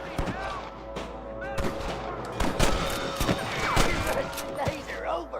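Gunfire in the Western video game Red Dead Redemption, with irregular sharp shots and cracks ringing out repeatedly amid a busy battle din, loud and close, with voices talking in the mix.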